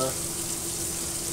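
Garlic and capers sautéing in a pan for a creamy shrimp pasta, a steady close sizzle of frying with a continuous hiss throughout.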